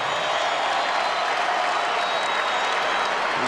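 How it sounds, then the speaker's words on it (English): Arena crowd at a 76ers vs Magic NBA game gives Allen Iverson a standing ovation after his fifth steal, a steady roar of applause and cheering that stays loud and sustained throughout. "The crowd standing O for Allen"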